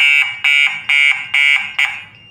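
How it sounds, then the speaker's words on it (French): An anti-theft home alarm siren blares in loud, evenly spaced pulses, about five strong bursts in quick succession, each cut short before the next, with no one speaking. "l'alarme sonne. J'espère que vous entendez le bruit."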